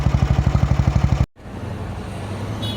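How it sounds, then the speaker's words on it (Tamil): A 1992 Royal Enfield Bullet motorcycle engine runs close by at a rapid, even thump, cuts out abruptly, then gives way to a lower, rougher idle-like drone. "இந்த வண்டியோட நாய்ஸ் பாருங்கள் எப்படி இருக்குது."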